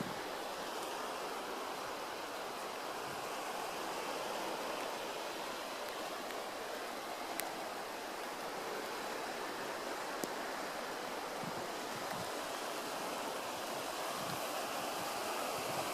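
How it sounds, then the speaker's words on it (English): Baltic Sea surf washes onto a rainy beach at Liepaja in a soft, continuous hiss with rainfall, steady and fairly faint throughout, with no voices. "That's the Baltic Sea."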